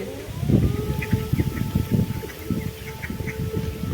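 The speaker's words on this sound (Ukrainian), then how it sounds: "Диви, іди оті качечки." Ducks quacking close by at an autumn waterside in Cherkasy, Ukraine, a flock giving repeated short, rhythmic quacks over a low background hum.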